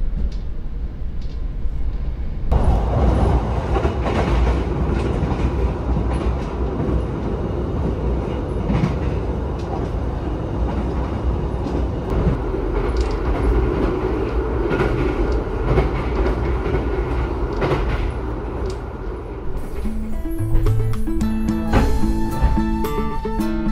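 The Gajayana passenger train from Jakarta to Malang rumbles steadily along the rails, heard from on board, a continuous loud roar with faint rhythmic clatter, joined near the end by a brief melodic chime.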